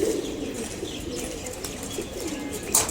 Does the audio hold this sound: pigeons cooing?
yes